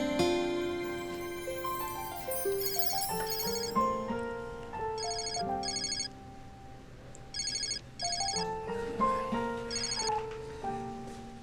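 A telephone rings with a melodic ringtone, repeating tonal phrases with bright trilling bursts, loud and steady for the whole stretch with no voices.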